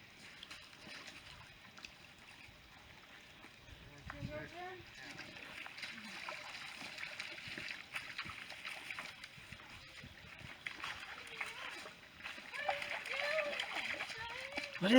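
Water splashing and sloshing in a shallow creek as calves and a dog wade in, with voices talking over the movement and bursts of splashes growing busier toward the end.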